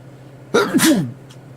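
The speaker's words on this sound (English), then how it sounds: "Got another sneeze coming." A single loud sneeze bursts out close by in a quiet cockpit during a flight-simulator session, with a steady engine hum running underneath.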